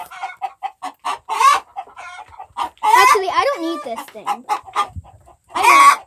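Hens in a coop where eggs are being collected give loud, close clucks and drawn-out squawking calls in irregular bursts, with a person talking briefly among them.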